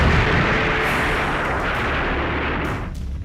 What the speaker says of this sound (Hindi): वीडियो में साफ साफ दिख रहा है कि किस तरह पटाखे और वहां रखे बारूद एक एक कर फट रहे हैं।